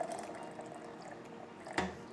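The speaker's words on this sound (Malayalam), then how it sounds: "തണുത്ത വെള്ളം കുറച്ച് ഒഴിച്ചു കൊടുക്കുകയാണേ." Cold water is poured into blended watermelon, a soft, quiet liquid trickle with a small splash near the end.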